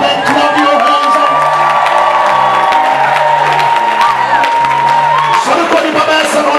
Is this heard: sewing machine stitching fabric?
no